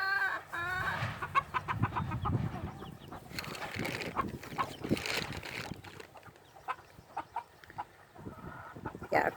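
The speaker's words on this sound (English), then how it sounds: "Call, our other rooster, just chased him away though" Silkie chickens and a rooster in a backyard pen cluck in a busy, uneven series of close calls, with a few sharper squawks standing out over a low outdoor background.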